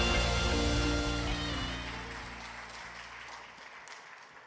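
A church congregation at a Korean early-morning prayer service claps together in a full burst that gradually thins and fades as lingering musical tones die away beneath it.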